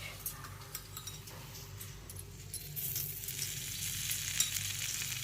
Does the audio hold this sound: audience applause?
no